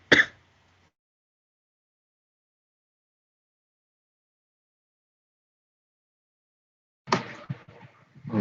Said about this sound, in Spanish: Justo cuando lo estaba diciendo, estaba tosiendo.